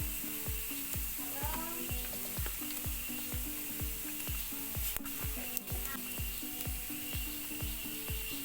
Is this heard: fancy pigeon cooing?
no